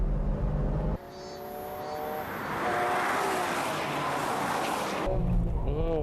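A Nissan GT-R race car at Fuji holds a loud, steady engine drone that fails to climb in pitch, with rushing wind noise around it, cut by brief changes at the start and end.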